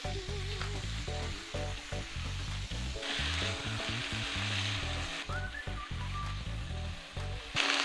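Chicken coated in masala paste fries in a hot pan with a steady loud sizzle, and stirring scrapes and clanks come through throughout. The frying swells briefly louder midway and then settles back down.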